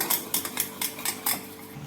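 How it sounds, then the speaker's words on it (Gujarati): A spoon mixes gram flour (besan) batter with water in a bowl for methi gota fritters, with quick rhythmic scraping clinks against the bowl repeating about six times, close and clear, with no talking. "હવે આપણે એમાં થોડું પાણી એડ કરીશું અને એમાં લમ્સ ના રહે એવી રીતે મિક્સ કરી લઈશું."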